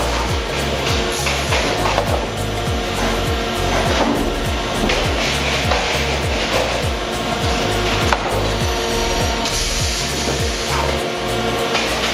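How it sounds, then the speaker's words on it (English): Lumber running through a planer at an automated sawmill, a loud continuous machine roar with rapid repeating low thumps from the feed as boards pass, steady throughout with no voices. "the lumber passes through a planer to reach its nominal size and a smooth finish"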